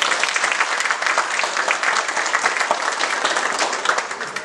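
A crowd at a senior citizens' week event in Río Grande claps for a local group, sustained loud applause from many hands with a busy, fluttering texture that fades slightly at the end.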